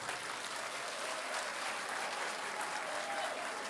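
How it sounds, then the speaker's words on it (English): Steady, dense applause from a seated audience of first-semester students at a university freshers' social and orientation programme, loud and sustained throughout with a faint crowd murmur beneath. "Let us give a round of applause."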